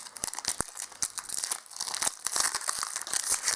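A Pokémon card booster pack wrapper is torn open and crinkled, with close, crisp crackling and tearing of foil plastic in quick irregular bursts and no talking.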